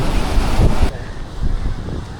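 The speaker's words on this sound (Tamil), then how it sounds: "இங்கே நல்லா காற்றடிக்குது" Strong wind buffets the microphone in loud gusts at a beach in Pondicherry, with surf rumbling underneath; the roar eases slightly partway through.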